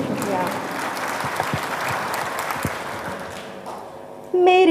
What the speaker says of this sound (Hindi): आप जोरदार तालियों से उनका इस्तकबाल करिए